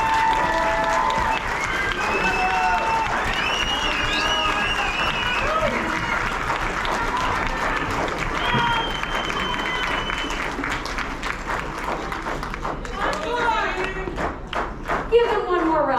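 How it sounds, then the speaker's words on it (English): A concert audience applauds the school symphonic band in a sustained, dense wave of clapping with some cheers, continuing steadily before thinning into scattered claps and voices near the end. "please stand and take this glorious applause you are about to receive"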